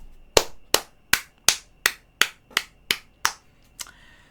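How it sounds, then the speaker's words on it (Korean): Ten sharp, evenly spaced claps ring out close and crisp, each with a brief decay, at a sales coaching lecture, followed by a softer final clap and a short tail of room sound. "박수 한번 부탁드리겠습니다."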